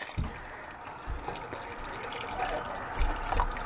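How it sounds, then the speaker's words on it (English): Canned chicken broth pours into a pot on a stove, a steady liquid splash and trickle close by, with a person talking over it. "I'm just gonna add in my can of chicken broth."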